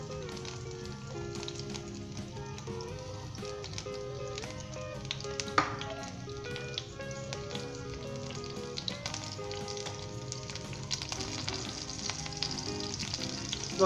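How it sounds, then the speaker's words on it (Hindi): Ginger and green chilies fry in vegetable oil, a steady close crackling sizzle that runs throughout with scattered sharper pops, under a low continuous tonal hum. "दोस्तों 1 से 2 मिनट तक हम इसे वेजिटेबल ऑयल के अंदर लाइट गोल्डन ब्राउन करेंगे"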